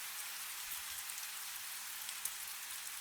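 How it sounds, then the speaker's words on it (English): Soft rain patters on stone, a faint, even hiss dotted with scattered small drips and one sharper drop near the end, with no voices. "the sound of the rain"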